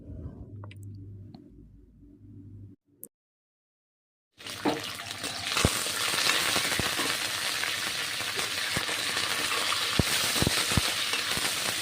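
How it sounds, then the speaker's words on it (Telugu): Green chillies and curry leaves frying in a tempering for lemon rice. A quiet, low rumble first, then a short silence, then a loud, steady hissing sizzle with scattered sharp crackles and pops that continues to the end. "పచ్చిమిర్చి కూడా బాగా ఫ్రై అయ్యాక ఇందులో కొంచెం కరివేపాకు వేసుకుని మళ్ళీ బాగా"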